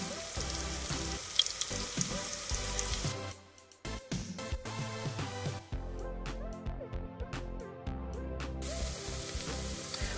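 Onions sautéing in a pot, with red beet juice among them, give a continuous close sizzle and crackle, interrupted by brief clinks and stirring knocks and a short quieter pause before the frying resumes.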